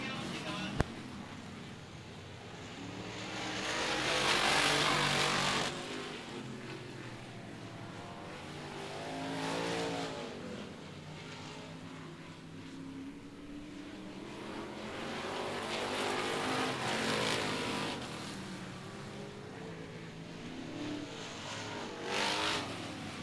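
Race cars compete at Cotton Bowl Speedway, with the number 9 car battling for second place. Engine roars swell and fade as cars pass at a distance, several times, under a commentator's voice.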